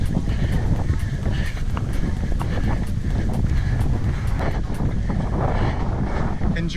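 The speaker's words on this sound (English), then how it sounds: "Here comes the wind." Steady wind buffets the microphone during an outdoor track run doing mile repeats, a constant loud low rumble and roar with gusty bursts throughout and no talking.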